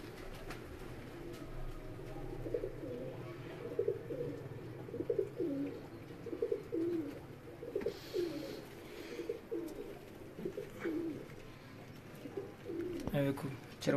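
Pigeons and doves coo repeatedly in a keeper's home loft, among them golden doves. The calls come as a steady run of soft, rolling coos with a low background murmur, moderately close throughout.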